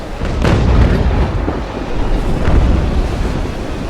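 Naval cannon fire in the Naval Action game, heavy booming blasts with a rumbling roar over a constant wash of wind and surf, one strong report early and another swell of rumble later.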